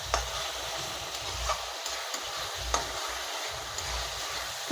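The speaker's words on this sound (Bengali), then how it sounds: "একটু খুব ভালো করে আমি কষাবো" Soybean and potato curry being sautéed in a pan, with a steady soft sizzle and occasional scraping stirs of a spatula, fairly quiet and continuous with no voices.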